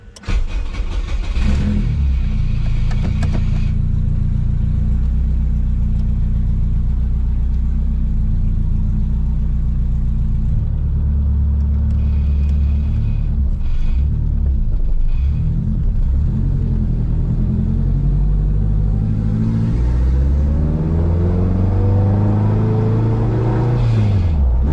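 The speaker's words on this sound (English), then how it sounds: "I'm gonna go ahead and drop the car and drive it around the block" A turbocharged K20-swapped Honda EF sedan drives around the block, its engine rumbling steadily with repeated revving and rising acceleration sweeps, loud and close throughout from inside or near the car.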